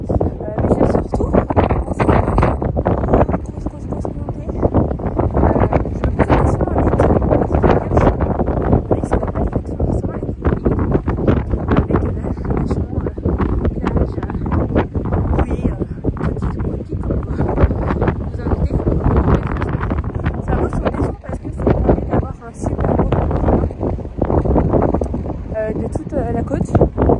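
Loud, constant wind buffeting the microphone on a beach at La Tremblade, Charente-Maritime, a heavy rumbling roar that barely lets up, with a voice faintly underneath.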